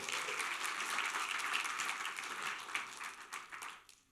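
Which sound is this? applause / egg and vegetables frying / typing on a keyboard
applause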